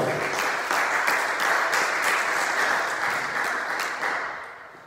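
A church congregation at a Sunday service claps steadily for about five seconds, a dense, loud, roomy applause that thins slightly toward the end.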